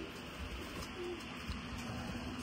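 Pigeons or doves coo faintly amid a dense outdoor flock, soft and steady under background noise.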